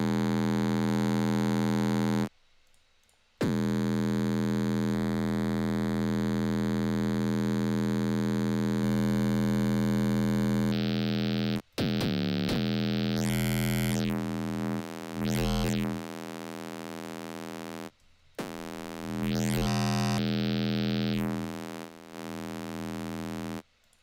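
Soft sine synth bass patch played in Ableton, a steady sustained tone with rich even harmonics, broken by brief silences and later by quick pitch sweeps and chirping glides, loud and alone without voices.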